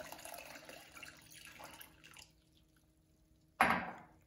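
Water pours and splashes into a 4-litre Panasonic hot water dispenser, a faint steady trickle followed by a sudden louder splash near the end, with no talking.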